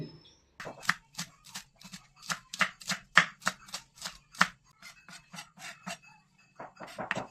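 Knife chopping coriander leaves and green chilli into small pieces on a board, a quick irregular run of soft, crisp taps close by, with no talking.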